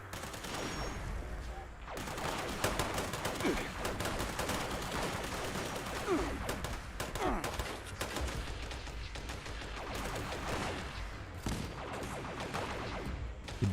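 Alien energy weapons firing in Fallout 76, rapid bursts of sharp shots repeating across the whole stretch, loud and dense with some voices faintly underneath.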